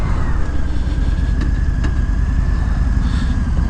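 A 2018 Harley-Davidson Breakout 115th Anniversary motorcycle engine runs loud and close with a steady, low rumbling throb, holding a constant idle-like note throughout and no speech.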